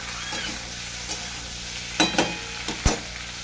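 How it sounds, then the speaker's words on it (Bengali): Broad beans and potatoes frying together in a pan, with a steady background sizzle broken by several sharp scraping stirs and clinks of the spatula, close and fairly loud. "ভেজে নেবো সিমটাকেও আলুর সাথে"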